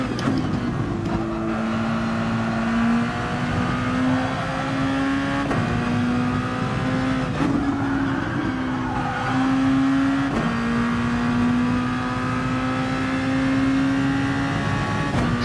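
A race car engine held on throttle around the Red Bull Ring in a racing video game, a loud continuous high-revving drone that rises steadily through gears with short shift dips, alone without talk.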